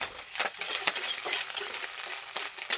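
Freshwater snails are stirred in hot oil in a pan, giving a steady soft sizzle broken by scattered clinks and scraping pulses of the spoon, with no talk.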